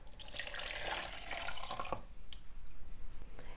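Water phase for an aloe vera after-sun lotion poured into a mixing container, a faint splashing trickle for about two seconds that fades into quieter handling noise.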